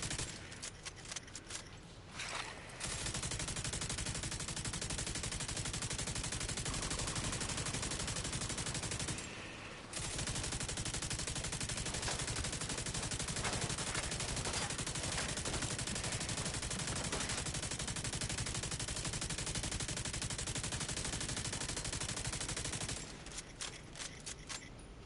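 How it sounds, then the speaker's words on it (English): Enemy gunfire in The Division 2, a loud, dense stream of automatic shots that runs almost without a break, with one short pause partway through, before tapering off near the end. "for that guy to stop shooting at me"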